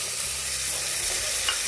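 Potatoes and drumstick pods sauté in hot oil, a dense continuous sizzle with stirring, close and steady, no voices.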